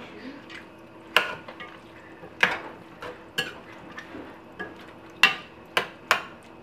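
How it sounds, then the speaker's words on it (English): A spoon stirs okra soup in a pot. The clip has soft wet scraping and a series of sharp clinks and knocks against the pot at irregular intervals, fairly quiet and close. "And then I use a spoon to turn it around, so that they will all come"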